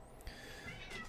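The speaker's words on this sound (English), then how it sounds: "That was my cat." A pet cat gives a short, close meow of about a second, clear and alone in a quiet indoor room.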